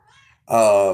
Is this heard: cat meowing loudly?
yes